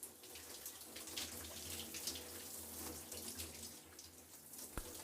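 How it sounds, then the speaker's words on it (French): Warm shower water runs steadily, a continuous hiss of spray that is faint and distant, with one brief knock near the end. "L'eau tiède de la douche,"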